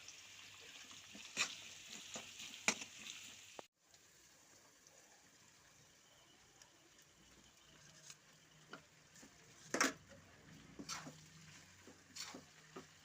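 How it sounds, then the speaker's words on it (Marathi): Poha being stirred with turmeric and salt in a pan for Nagpur-style tarri poha, soft scraping and sizzling with a few sharp spoon clinks against the pan, quiet and close, with a brief pause partway. "छान मिक्स करून घ्यायचे आहे पोहे"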